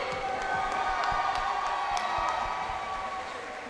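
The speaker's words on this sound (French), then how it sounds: "C'est mon coach, Jackie Ruidavé, il mérite aussi des applaudissements. Faites du bruit s'il vous plaît." An MMA event crowd applauds and cheers in a large venue, with a dense wash of clapping and shouting that stays loud and steady before easing slightly at the end.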